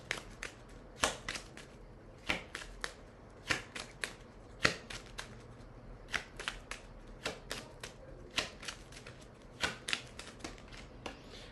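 Tarot cards are shuffled and drawn in quick, crisp riffling bursts, sharp snapping flicks repeating in an irregular rhythm close to the microphone.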